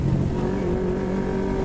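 A steady, loud engine note from a Yamaha MT25 motorcycle on a morning ride, close by and held at an even rev with a slight rise in pitch, with no one speaking.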